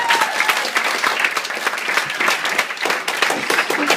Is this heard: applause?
yes